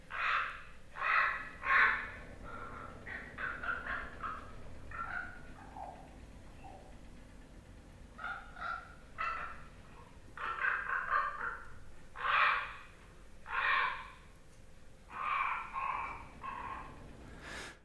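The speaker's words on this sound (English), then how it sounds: "That's the raven, who's called Dotsan in the Koyukon language, or Tsikas, which means old grandfather." A raven in Koyukon country gives a varied series of hoarse caws and croaks, some in quick doubled bursts, others single and drawn out, over a soft continuous outdoor background.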